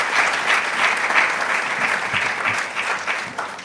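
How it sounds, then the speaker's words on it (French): An audience claps warmly for a film team at an award ceremony. Dense, steady applause fills the whole stretch, close and even, easing slightly at the end with no voices over it. "je vous demande franchement d'applaudir très chaleureusement cette équipe"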